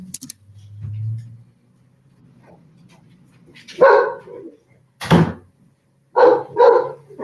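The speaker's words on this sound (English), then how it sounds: "sorry, my dog is barking." A dog barks a few times in short bursts, close by, with a low rumbling hum and quiet stretches between.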